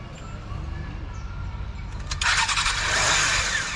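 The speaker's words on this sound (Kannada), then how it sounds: "ಗಾಡಿ ಇಂಜಿನ್ ಸ್ಟಾರ್ಟ್ ಆಗಿರೋದು" A motorcycle fitted with a GPS tracker starts up on a street: faint idle background, then a sudden louder engine catch and running rumble in the second half.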